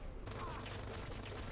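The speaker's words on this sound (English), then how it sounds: "So the turret is behind a fucking wall shooting at me." Turret gunfire in the shooter game Dirty Bomb, coming from behind a wall: a fast, continuous rattle of shots, muffled and fairly quiet throughout.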